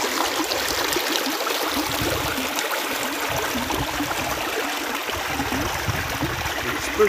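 A river in Jamaica rushes and trickles steadily close by, a bright, continuous babble of flowing water with no voices.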